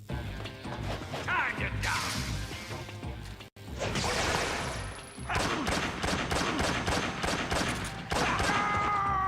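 SVD rifle gunfire in Metal Gear Solid 3 on PlayStation 2: loud, repeated crashing shots over dense game sound effects, with whooshes and mechanical clatter, a brief cut partway through, then a faster run of blasts.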